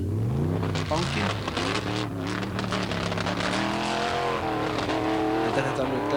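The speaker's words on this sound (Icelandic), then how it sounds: "Næstur er Gunnar Guðjónsson á Willys 47 með 383 CV-vél, glímkassi Sagina." A 1947 Willys off-road racer with a 383 engine roars at a 1992 Jósepsdalur off-road event, its loud engine revving and shifting continuously beneath an announcer's commentary.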